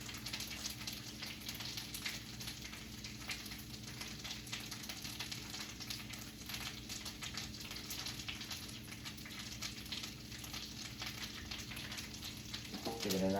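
Chorizo meat for burritos fries in a pan with a constant, even sizzle at moderate volume, rising slightly with a faint stir right at the end.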